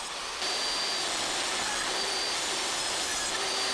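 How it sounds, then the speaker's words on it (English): A power planer shaving soft cedar fence picket boards gives off a loud, steady, close roar of whirring blades and rushing air, unbroken throughout with no speech. "I just got done planing all the boards down"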